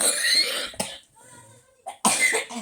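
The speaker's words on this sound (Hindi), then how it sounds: "खांसी आ गई" A few sharp, close coughs, with a brief quiet gap between bursts.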